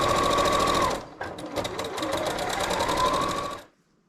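Sewing machine stitching a faced binding, a close, steady mechanical whir with rapid needle ticking that slows and dips briefly mid-run, then resumes before stopping abruptly.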